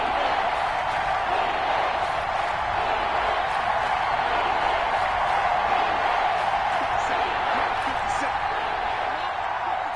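A stadium crowd in an American football video game roars in a steady, dense wash of cheering that holds at an even level throughout, with no clear voices standing out.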